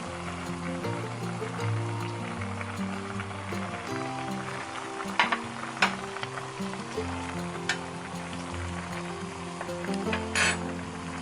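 Onions go into a simmering pork and vegetable gochujang stew, giving a steady low bubbling and sizzle with scattered light clinks and scrapes of a utensil against the pot.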